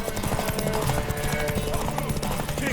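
Horse hooves galloping in the video game The Witcher 3, a rapid rhythmic clip-clop at moderate loudness over a busy backdrop of game sound.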